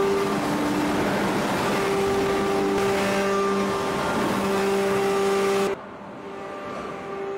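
A 3000 ton hydraulic press forging a steel billet gives off a loud, steady mechanical drone with sustained tonal hums, which drops abruptly to a quieter level near the end.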